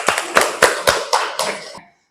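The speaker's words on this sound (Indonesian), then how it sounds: "Tepuk tangan ya." A group of students in a classroom claps in a short, rhythmic burst of about seven sharp unison claps, then falls silent.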